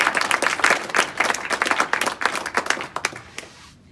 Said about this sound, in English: I'd like to hear a nice round of applause for Michael Cushman